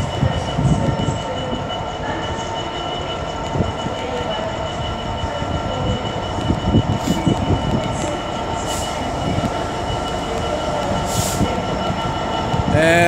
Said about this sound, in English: We've also got coming in 390129, working the delayed 1334 Avanti West Coast service to London Euston